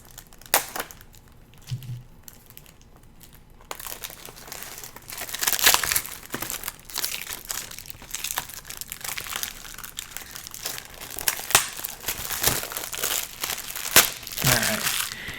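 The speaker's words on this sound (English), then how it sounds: "Let me take this plastic off so you can see it better." Plastic wrap crinkles and tears as it is peeled off a matte film slipcase, close and intermittent, with louder crumpling bursts through the middle and latter part and quiet gaps between.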